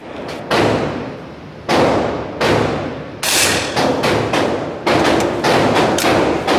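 Repaired lever action .22 rifle over 100 years old firing several loud, sharp reports close by at irregular intervals, each cracking report followed by a short decay.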